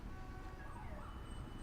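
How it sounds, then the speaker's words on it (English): A faint, distant police siren wails and rises over a steady low rumble of background noise, with no voices present. "You all hear police sirens."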